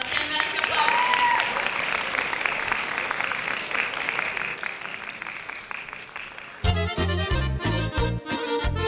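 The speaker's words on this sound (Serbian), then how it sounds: "Molim vas, jedan veliki aplauz." An audience at a music festival applauds loudly and steadily for several seconds, a dense wash of clapping that gives way to a band starting to play.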